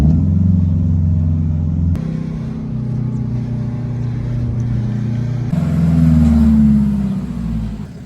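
A car engine drops a gear with a brief rev change, then pulls and accelerates with a steady loud rumble close by.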